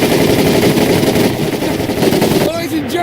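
Machine gun firing in the Medal of Honor Pacific Assault WW2 boot camp training, a sustained loud burst of rapid automatic fire that stops near the end, with a voice cutting in briefly after.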